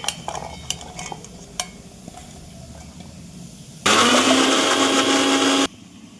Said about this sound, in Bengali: আদা রসুন লঙ্কা পেস্ট করে নিচ্ছি।